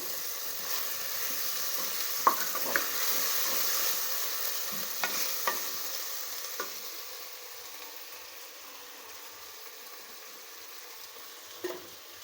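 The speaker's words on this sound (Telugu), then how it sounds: "కొంచెం కొత్తిమీర అన్నీ వేసి బాగా కలుపుకోవాలి దీంట్లో టమాటో కూడా వేసుకోవాలి" Vegetable khichdi with coriander and tomato is stirred in a hot pan, giving a continuous soft sizzle with a few scraping clicks of the spoon, close and steady, then fading slightly toward the end, with no talk.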